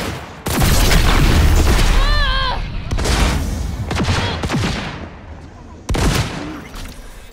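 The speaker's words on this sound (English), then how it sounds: "Police, you're shooting!" Police gunfire in the video game Cyberpunk 2077: loud, close bursts of shots and booming impacts in quick succession, with a shouted voice partway through the firefight.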